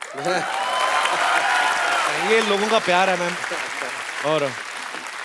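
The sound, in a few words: audience applause on a TV comedy show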